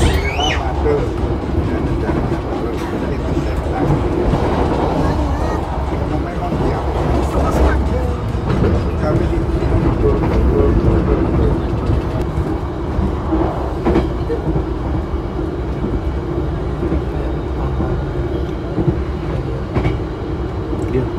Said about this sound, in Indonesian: kita sedang melintas langsung di stasiun Karawang, dan biasanya kalau melintas langsung di sini kita kecepatannya full speed nih